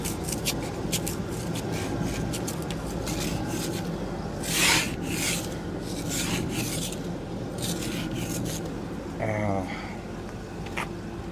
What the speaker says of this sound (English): our ice scraper is not exactly in pristine condition